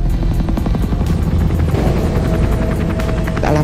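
A helicopter thunders close by, rotor blades thumping in a rapid steady beat over a dense engine roar, loud and unbroken.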